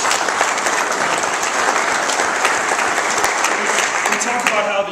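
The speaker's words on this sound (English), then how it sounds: "I think that deserves a round of applause" Audience applause at a BNI business networking meeting in St. Louis, a steady, dense wash of many hands clapping that holds evenly throughout without any speech over it.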